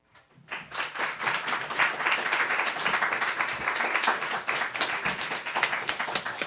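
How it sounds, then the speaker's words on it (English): An audience breaks into applause after a sudden start: many hands clap in a dense, sustained patter that swells quickly and holds steady, fairly loud and close, with no speech. "Let's have one more round of applause for Jamie Albrecht, Erin Cross, Rodney Daile"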